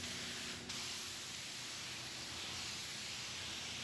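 A spray gun lays a coat of sealer in one steady, close hiss that runs almost the whole time, with a brief dip near the start.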